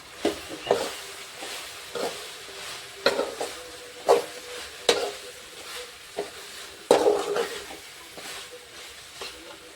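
Fried bread pieces tossed and mixed in a pan with fried tomato, soft irregular scrapes and clatters of a spoon against the pan over a faint background hiss, no voices.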